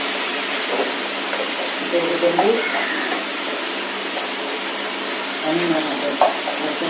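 Vegetables and dal sautéing in a pan for a brinjal and raw mango sambar give a constant close hiss of frying, with occasional stirring scrapes and a faint voice in the background.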